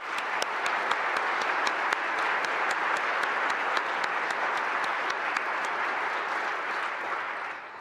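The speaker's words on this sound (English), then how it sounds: "Please join me in thanking Attorney General Barr for his participation here today." Steady applause from an audience at a policing award ceremony, crisp individual claps standing out over a uniform wash of clapping that holds evenly throughout at moderate loudness.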